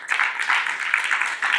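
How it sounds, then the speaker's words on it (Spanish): A congregation applauding in church, a dense steady wash of many hands clapping together, sustained and fairly loud throughout. "Dale un aplauso al Señor."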